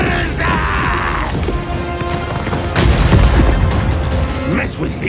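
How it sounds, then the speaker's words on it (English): Warp lightning cannons fire in a Total War: Warhammer 2 battle, loud crackling booms and heavy blasts in a dense, continuous battle din. "Many warp lightning cannons!"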